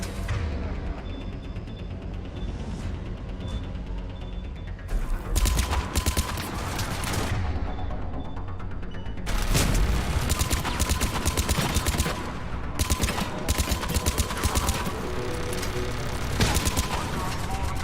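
Turret fire in Mass Effect 3 opens up in heavy bursts after a quieter stretch, dense rapid shots that stop and start several times, loud and close over game music and effects.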